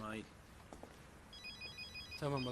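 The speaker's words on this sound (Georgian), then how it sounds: "ძმო, ისევ ისმაილი რეკავს." A telephone bell rings in short bursts of electronic trills in the middle of a dubbed television drama scene, with voices heard around the ringing.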